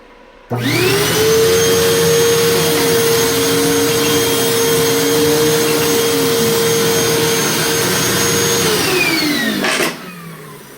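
An old vacuum cleaner switches on and runs loudly and steadily for several seconds with a whining hum and rough scratchy undertone from a dirty brush roller, then winds down and stops.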